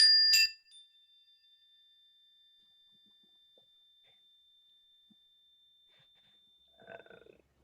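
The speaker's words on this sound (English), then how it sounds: "So I'm gonna ring the bells again." Bells rung once with a bright, loud strike, their clear tone ringing on and slowly fading over several seconds in a quiet room, followed by faint shuffling.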